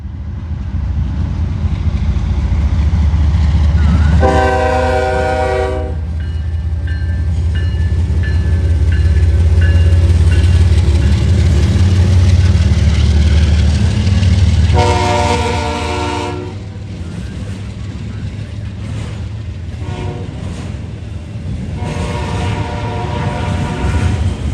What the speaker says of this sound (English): 28M is eastbound intermodal out of Chicago, Illinois to Baltimore, Maryland